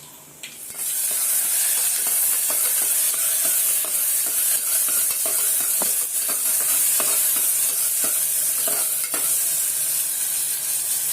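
Onions hit hot oil already tempered with bay leaf and red chili, breaking into a loud, continuous sizzle and hiss with steady crackling pops. Scattered scrapes and stirring clicks from the pan cut through the frying noise.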